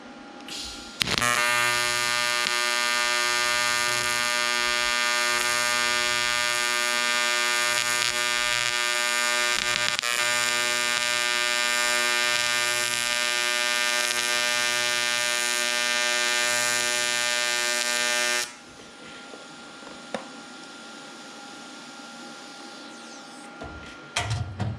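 A YesWelder Firstess 2050 runs an AC weld with its balance turned up, giving a steady, loud buzzing hum with strong harmonics for about seventeen seconds before it cuts off, leaving a quieter background.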